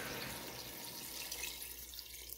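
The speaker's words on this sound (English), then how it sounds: "Now I'm gonna add about 4 cups of vegetable stock" Vegetable stock pours into a pan with a soft, steady stream of liquid splashing and bubbling, quiet and continuous, with no voices.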